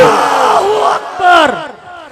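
A large crowd at a religious gathering roars back a loud Takbir response in two swelling shouted bursts, close and forceful.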